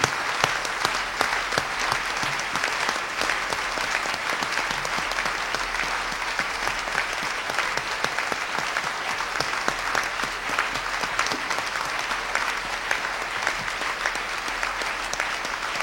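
A church congregation in Tsévié, Togo, claps loudly and steadily throughout, with dense, continuous applause filling the room and faint voices mixed in.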